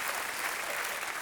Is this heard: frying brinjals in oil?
no